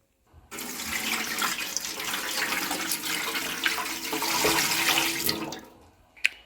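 Hot water pours steadily into a Philips air fryer basket holding dish soap, a continuous splashing rush lasting several seconds that stops abruptly with a final clink near the end, no talking.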